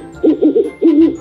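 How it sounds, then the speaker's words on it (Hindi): An owl hoots in a series of deep, mellow calls, two quick hoots followed by a longer drawn-out hoot, loud and close with nothing else around. "ये उल्लू की है"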